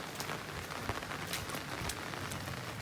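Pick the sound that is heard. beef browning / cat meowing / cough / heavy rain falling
heavy rain falling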